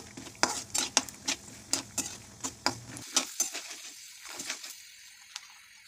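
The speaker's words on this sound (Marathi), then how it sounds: "त्याच्यानंतर त्याच तेलामध्ये मी शेंगदाणे घेतलेले आहे। शेंगदाणे पण व्यवस्थित परतून घ्यायचे आहे आपल्याला तेलामध्ये।" Peanuts being fried and tossed in oil for crispy poha: a close series of sharp stirring scrapes and clinks over a light sizzle, thinning to a few scattered knocks toward the end.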